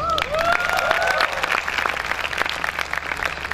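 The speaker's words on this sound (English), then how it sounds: "Give yourselves a round of applause." Graduates at a university convocation give themselves a round of applause, dense steady clapping filling the hall, with a couple of cheers rising early on.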